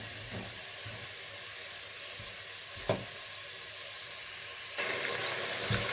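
Onions fry in oil for balti gosht, giving a continuous close sizzle with occasional stirring taps, and the hiss swells louder and brighter near the end.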